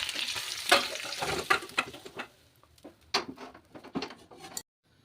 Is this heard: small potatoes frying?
yes